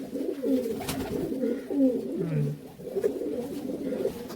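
Local Giribaz pigeons from Rajshahi coo in a steady, overlapping murmur of low throaty calls, close by and fairly loud, with faint background voices.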